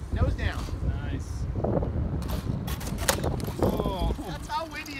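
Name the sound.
strong wind blowing at the flying field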